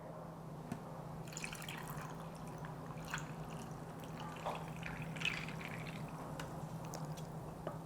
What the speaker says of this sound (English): then we're gonna go in with our plain sparkling water